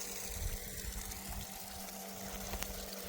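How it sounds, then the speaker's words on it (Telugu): A borewell water pump runs on a farm with a steady low mechanical drone and a gushing, splashing flow of water, constant and fairly close throughout. "ఇది బోర్"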